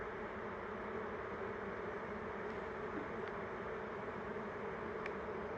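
Honeybees from a large caught swarm hum in a steady, dense buzz close by, a continuous insect drone with no talk.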